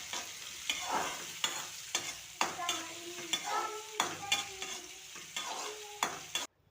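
Finely chopped onion and crushed garlic frying in hot oil for a radish stir fry, with steady close crackling sizzle and repeated scraping stirs at a fairly regular pace, no talk.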